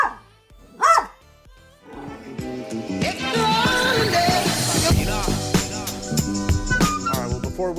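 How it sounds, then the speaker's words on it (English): Dogs barking while playing indoors, an old dog letting out sharp, close barks in quick bursts with yips and whimpers between, growing busier and louder toward the end. "oh my goodness, we've got some dogs playing over here."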